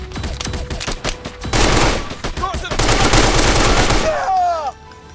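Rapid automatic gunfire and bursts of shots in a shooting video game, loud and dense, coming in waves before tapering off with a shout of speech at the end.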